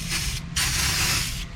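Super Clean aerosol degreaser sprays onto built-up oil and gunk on an old, long-sitting jet ski in two loud, close, steady hissing bursts with a short break between them.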